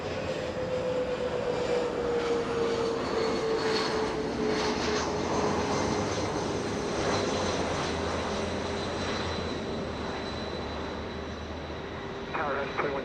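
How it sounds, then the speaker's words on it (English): A Lufthansa Airbus A340-300 four-engine jet departing LAX, a sustained roaring engine drone with a slowly falling whine, heard steadily from a distance beneath a voice and radio chatter. "It's Lufthansa. That's a quad jet. That's an A340-300 flying back to Frankfurt."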